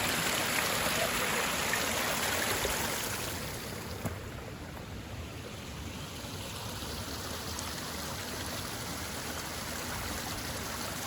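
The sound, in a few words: river water flowing while crossing a river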